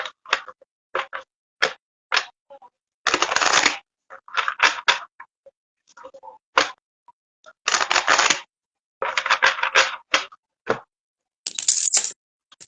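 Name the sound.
shuffling oracle cards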